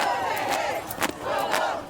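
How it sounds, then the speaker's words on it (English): A protest crowd fills a downtown San Antonio park and street, chanting a rhythmic slogan in loud repeated waves of many voices, with sharper shouts rising between phrases. "The crowd taking over the park and street, chanting, "This is what democracy looks like.""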